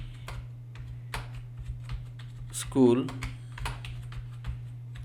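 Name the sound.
typing on a computer keyboard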